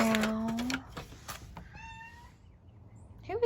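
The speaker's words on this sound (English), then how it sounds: "Who is this cat?" A cat meowing close by, one long rising meow followed by a shorter higher call, with faint clicks and rustling between them.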